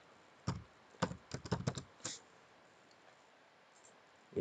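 Keystrokes on a computer keyboard while typing a spreadsheet heading: a short burst of a dozen or so close, crisp clicks in uneven rhythm over about two seconds, then quiet.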